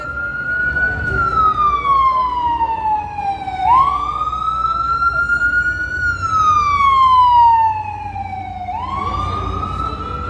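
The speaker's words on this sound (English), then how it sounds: "Mount Sinai ambulance." A Mount Sinai ambulance siren wails loud and near on Fifth Avenue in New York City, sweeping slowly up and down in long repeating cycles over city traffic noise.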